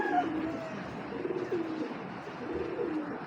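A grizzle racing pigeon coos in low, soft, continuous murmurs close by, with no one speaking over it.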